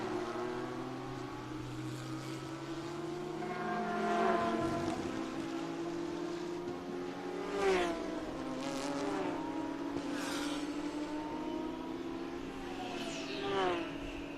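Race car engine at Virginia International Raceway during an IGT endurance race, a steady buzzing drone with rising and falling pitch sweeps as the car pulls off pit road and accelerates back onto the track, moderately loud and continuous.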